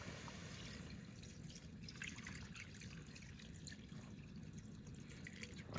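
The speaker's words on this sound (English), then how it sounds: "Put some water in here." Water is poured into a container at a truck campsite, giving a quiet, continuous trickle with small splashes and drips, faint and close against a soft background.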